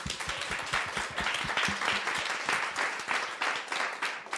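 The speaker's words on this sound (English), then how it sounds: "Another round of applause for an excellent debate." Audience applause at the close of a youth debate on decriminalizing sex work, dense and fairly loud, with many hands clapping steadily throughout.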